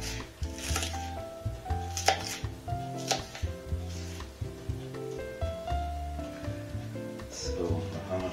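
An onion chopped with a kitchen knife on a cutting board, a steady run of close, crisp blade knocks at a brisk, slightly uneven rhythm with no talk.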